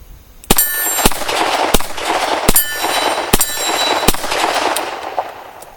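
A Colt Diamondback revolver fires at a shooting range: six sharp, loud, evenly spaced cracks with metallic ringing tails and a short echoing decay between shots.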